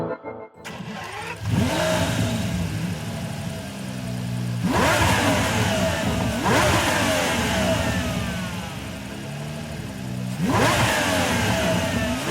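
A hand-built 7.3 litre Aston Martin V12 barks into life, then rises through several loud, sweeping revs that fall back toward idle between bursts.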